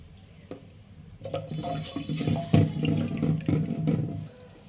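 Garlic and other hair-oil ingredients are washed under a running kitchen tap, water splashing and gurgling steadily at close range after a brief quiet start, with no talking.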